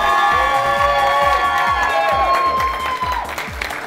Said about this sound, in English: if you guys will let out a cheer for each one